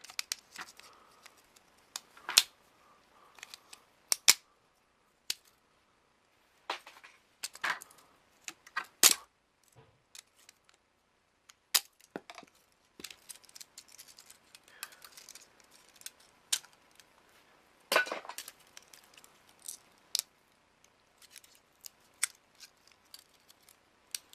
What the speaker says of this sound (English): I'm going to go ahead and just break this plastic